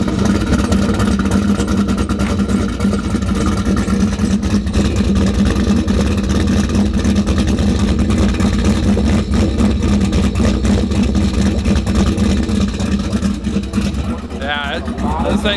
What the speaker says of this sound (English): this thing sounds mean. Proper muscle car sound.